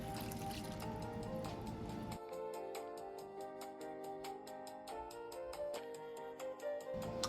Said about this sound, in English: this is where I'm going to add in that 1 cup of pasta water that I reserved on the side